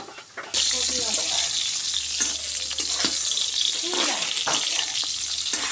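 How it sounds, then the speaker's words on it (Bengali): Pieces of pointed gourd fry in hot oil in a home kitchen, giving a steady close sizzle with occasional stirring scrapes and clinks that run through the whole stretch. "পটলটা ভাজা আমার হয়ে গেছে"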